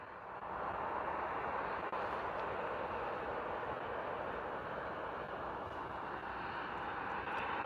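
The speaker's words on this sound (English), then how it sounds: "Lovely departure today from our friends at EasyJet in the A320 Neo." An EasyJet Airbus A320neo departing runway 27 at Bristol Airport, a broad, steady jet roar that holds strong and even for the whole stretch, heard from a distance with no talking.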